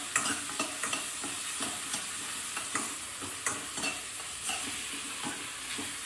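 Onion, garlic, ginger, green chillies, curry leaves and tomatoes sautéed in a pan for egg curry: steady sizzling with repeated scraping stirs at an irregular rhythm, close and fairly loud, with no talking.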